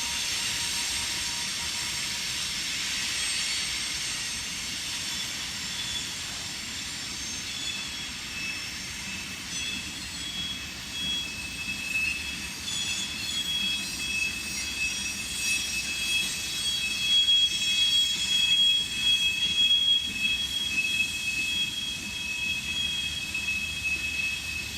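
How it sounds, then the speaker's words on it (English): A CSX freight train rolls steadily across the Covington and Newport Railroad Bridge over the Licking River, its wheels squealing with a continuous high metallic whine above a low rumble that builds slightly toward the end. "The train is making its way across the Covington and Newport Railroad Bridge, also known as the Licking River Bridge North."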